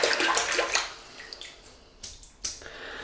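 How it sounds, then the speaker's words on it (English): A synthetic tuxedo-knot shaving brush is wetted under a running tap, giving a steady broadband splash of flowing water that eases off, then a few short splashy bursts toward the end. "Wet the brush."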